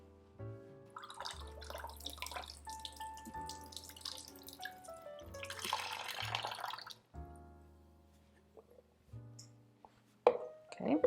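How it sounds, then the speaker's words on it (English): Water being poured off soaked cashews in a kitchen, with close irregular drips, trickles and splashes against a sink plus faint clatter, fairly quiet overall. "So I'm just going to drain off the water."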